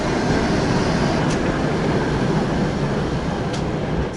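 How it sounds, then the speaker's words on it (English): A Soviet-era tram rolls past on a street in Sofia, Bulgaria, a steady loud rumble of wheels and motor close by, with faint squeals from the rails and no talking. "Soviet trams."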